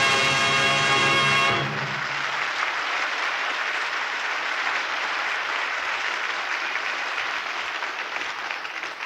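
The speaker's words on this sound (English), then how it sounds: "That applause is for you." Steady theatre audience applause at a radio drama broadcast, rising out of a closing musical chord and continuing as a dense, even wash of clapping that slowly thins toward the end.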